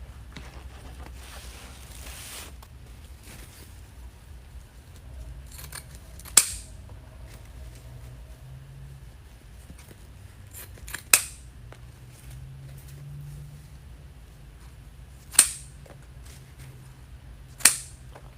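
Scissors trim a ribbon bow for a homemade red, white and blue patriotic wreath, with four sharp, separate snips spread over quiet room tone.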